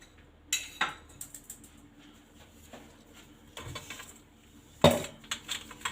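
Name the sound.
sieving ground lentil flour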